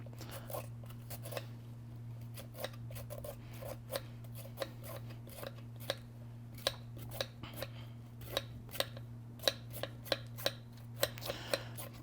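A sweet potato is peeled in a kitchen cooking demo, giving a dozen or more short, crisp scraping strokes in an irregular rhythm over a steady low background hum, close and fairly quiet, with no talking.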